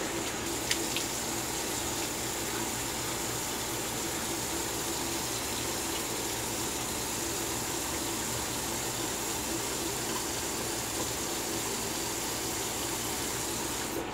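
Water runs steadily from a bathroom tap while a brass Colonial Razors The General safety razor is rinsed during a wet shave, a continuous close hiss of flow with no talk.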